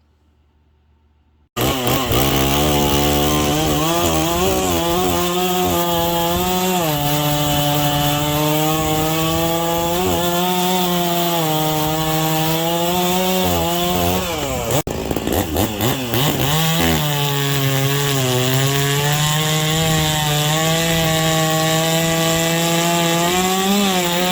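Farmertec F660 and Neo-Tec NS892 chainsaws, Stihl MS660 clones with a muffler mod, cut wood at loud, steady full throttle, their pitch sagging as the chain bogs into the cut and rising again during a brief pause partway through.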